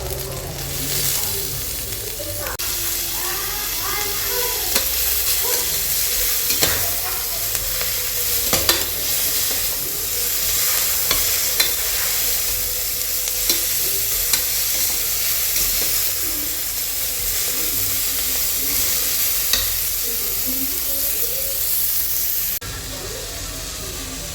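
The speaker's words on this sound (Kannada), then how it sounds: "ಸ್ವಲ್ಪ ಈರುಳ್ಳಿ ಪಿಂಕಿಶ್ ಆಗೋ ತನಕ ಫ್ರೈ ಮಾಡ್ಕೋಬೇಕು." Steady sizzling of onions, mint and coriander frying in a pan, with frequent scraping stirs of a spoon throughout, close up; no talking.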